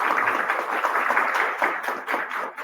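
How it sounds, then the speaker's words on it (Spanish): Sustained crowd applause for a soil-science speaker at a Peruvian soils symposium, a dense even patter of many hands lasting throughout and thinning slightly toward the end. "Nuevamente un fuerte aplauso, por favor, para el doctor Salazar."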